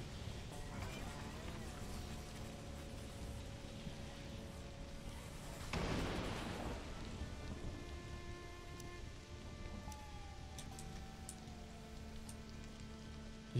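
Steady rain from a thunderstorm in Stranded: Alien Dawn, faint and continuous, with a brief swell of rumble in the middle under game music tones.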